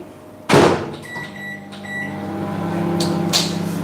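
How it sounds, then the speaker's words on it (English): A microwave oven warming a yogurt cake: a loud door thunk, a few electronic keypad beeps, then a steady close running hum with faint clicks near the end. "Let us just microwave this yogurt cake now."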